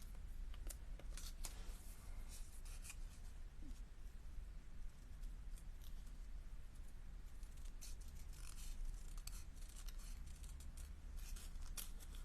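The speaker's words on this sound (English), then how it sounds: "But I'm just going to cut these ones out." Scissors snip through plain coloured cardstock pieces at a crafting table, a steady run of close crisp cuts and paper rustles continuing without pause.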